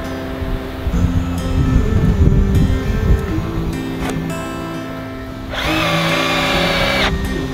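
Cordless power drill driving screws into a metal beam while setting footers, with bursts of whirring motor and a sustained higher-pitched drive near the end, loud and close with no talk.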